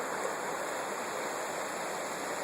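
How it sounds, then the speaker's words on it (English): Gore Creek, a Colorado river, rushes past in a steady, close hiss of flowing water, unbroken and even for the whole stretch with no voices. "It's a beautiful river"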